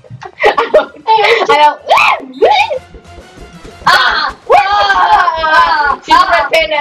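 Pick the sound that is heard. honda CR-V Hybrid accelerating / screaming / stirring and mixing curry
screaming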